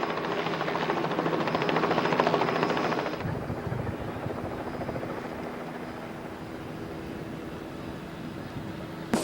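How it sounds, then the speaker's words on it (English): A Robinson helicopter lifts off nearby, its chopping rotor and engine drone loud at first, then easing to a steadier, somewhat quieter hum as it moves away. No speech is heard. "Robinson helicopter took off for their test picture"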